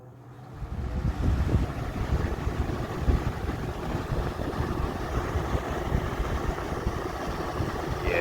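A 1983-1984 Galaxy 20-inch box fan, model 3713, runs on high speed, a steady broad rush of moving air that swells in over the first second and then holds loud and even, with gusty rumble from air hitting the microphone.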